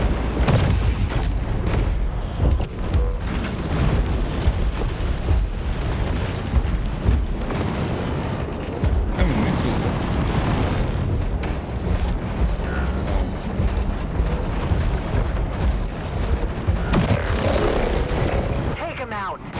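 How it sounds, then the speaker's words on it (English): Artillery explosions boom again and again in the robot battle game War Robots: Frontiers, with dense, rumbling impacts and mechanical clatter filling the scene while a player talks over the gunfire throughout. "we're going to die to artillery. There's just artillery over here."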